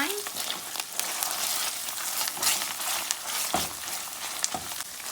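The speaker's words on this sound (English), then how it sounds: "So now that our tomato paste fried up a little" Tomato paste sizzles and fries with onion and thyme in a pot, a steady crackling hiss with small pops throughout.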